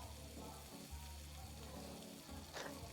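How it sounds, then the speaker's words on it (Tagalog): Quiet, steady sizzling of spring rolls frying in oil in Roblox Restaurant Tycoon 2, a soft continuous crackle with a brief stirring noise near the end. "Okay, prito tayo ng spring roll."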